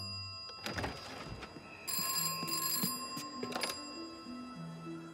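A telephone rings in an Italian Thomas the Tank Engine cartoon, bursts of bright bell trills over tonal background music and a few soft thuds, with no talk.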